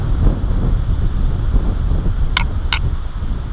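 Wind gusting across a carp fishing lake, a loud low buffeting rumble on the microphone with a steady airy rush and two brief high squeaks near the end.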